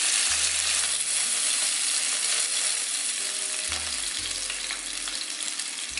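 Chicken thighs sizzle steadily in a pan, a continuous bright frying hiss with a few low knocks and scrapes of utensils against the pan near the end.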